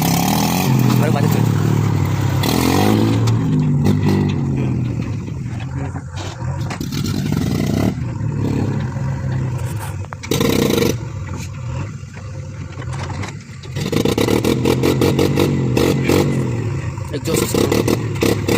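Mahindra tractors and a JCB Eco Xcellence backhoe loader working hard on a site, heavy diesel engines roaring and revving loudly and continuously, with bursts of exhaust noise and scraping under the engine roar.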